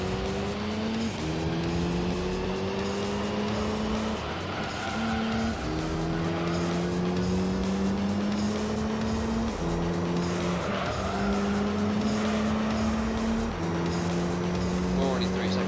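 Race cars in the Gran Turismo 3 video game, American muscle cars including a Viper, with steady loud engine drone shifting through gears and repeated tire squeal and skidding, alongside speech.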